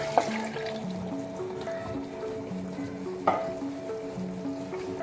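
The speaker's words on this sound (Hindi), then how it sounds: "इस स्टेज पे हम इसमें ये यखनी ऐड कर देंगे" Kashmiri aloo gosht masala and potatoes frying in a pot as stock (yakhni) is poured in, a steady close sizzle and bubbling with a couple of sharp clinks from a utensil.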